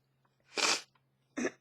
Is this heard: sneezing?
yes